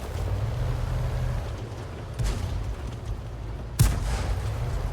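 A tank cannon fires in World of Tanks: a low, rumbling engine drone runs throughout, broken by a fainter thump and then one sharp, loud gun blast near the end.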